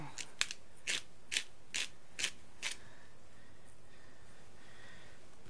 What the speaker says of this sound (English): Grind up quite a bit. Like I said, I'm a big lover of pepper.